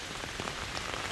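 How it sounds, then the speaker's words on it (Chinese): Steady rain falls outdoors over a garden of air-layered fruit trees, a dense, even hiss of drops on surfaces that continues throughout with no voices. "这几天一直下雨哈"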